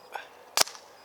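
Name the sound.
Proto Maxxed Rail paintball marker firing through chronograph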